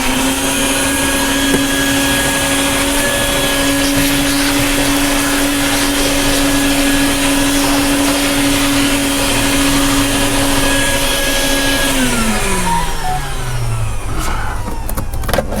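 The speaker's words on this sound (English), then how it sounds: "Come back, vacuum it." A vacuum cleaner runs steadily and loudly while sucking up sanding debris from a bass boat's surface, its motor whine holding constant before dropping in pitch and winding down near the end.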